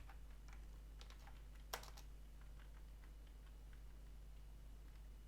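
Quiet, steady clicking of a computer keyboard while a database query is typed in PHP, soft irregular keystrokes close by over a low hum, with one sharper tap partway through and no speech.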